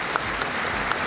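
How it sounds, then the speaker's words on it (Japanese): Applause from an audience at a Tokyo Auto Salon 2020 award presentation, a steady, dense wash of clapping that fills the short moment without any talk over it. "生田潤さんに盛大な拍手を送りください。"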